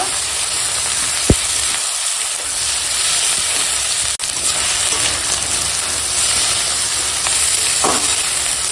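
Ginger-garlic spice paste fries in a pan, a loud continuous sizzle and steamy hiss with occasional sharp scrapes and taps from stirring close by.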